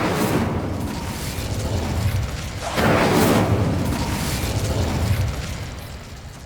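An Incendio fire spell cast in Hogwarts Legacy, a loud whooshing burst that swells and roars around the middle, then trails off into a sustained rumble with no talking.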